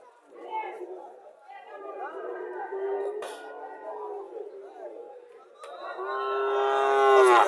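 A dairy cow and her calf at Chandi Mura village cattle market in Barura, Comilla, giving several close, drawn-out moos over market chatter and nearby voices.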